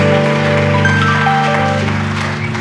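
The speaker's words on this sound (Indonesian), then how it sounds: "Tepuk tangan untuk Anda" Congregation at a Catholic service inside Cipinang prison applauds, a moderate spread of clapping layered over sustained keyboard-like musical tones that hold steady beneath it.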